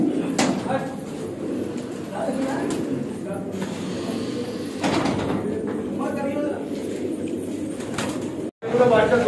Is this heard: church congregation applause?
no